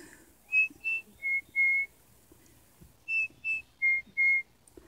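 A person whistles an imitation of a mountain chickadee call at a forest campsite in San Bernardino National Forest: two sets of four clear whistled notes, each set two higher notes then two slightly lower ones, close and alone.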